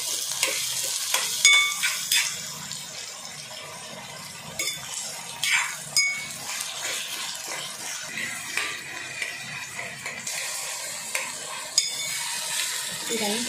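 Bitter gourd pieces fry in a pan with continuous crackling sizzle, broken by scraping stirs and occasional metallic clinks of a spoon, close by with no talking.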